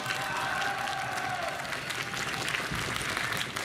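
Steady applause from a crowd at a cosplay convention, dense clapping with a few cheers mixed in, continuous for a few seconds.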